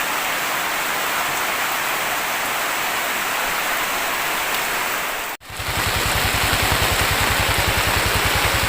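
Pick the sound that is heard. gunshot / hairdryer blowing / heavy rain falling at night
heavy rain falling at night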